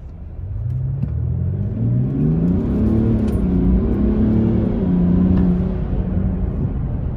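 A 2020 Mercedes GLS 400d diesel engine of 330 horsepower pulls hard at night. It gives a steady, loud, deep rumble that rises in pitch in waves as it accelerates and shifts through the gears, heard from inside the car with no talk.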